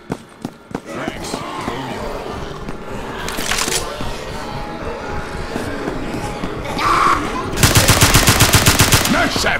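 Gunfire in the zombie shooter Left 4 Dead 2, with scattered shots under a busy game mix, ending in a rapid, loud automatic burst, while players talk over it.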